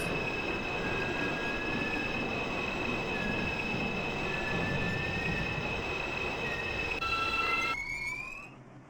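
A New York subway 1 train runs in the OpenBVE train simulator, with a steady rumbling roll, high whining squeals from the wheels and a sustained tone that rises before fading near the end.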